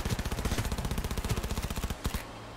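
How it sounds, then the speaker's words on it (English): Submachine gun fire in Cyberpunk 2077 chatters in a fast, even stream of loud, close shots for about two seconds, then stops abruptly with no speech. "I definitely need some recoil control with these submachine guns."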